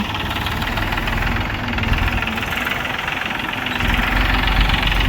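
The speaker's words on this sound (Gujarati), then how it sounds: "કાકો ટ્રેક્ટરથી જે માટી છે એ ખેંચી ખેંચી લાવી" A tractor engine hauling soil to fill a large pit, a loud, close, steady diesel rumble with a rough knocking throb and no pauses.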